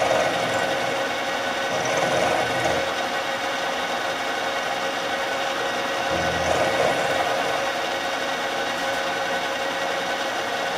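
Steady grinding whir of a power drill boring a hole during sewer slinger work, running continuously and fairly loud with a slight rise in the middle.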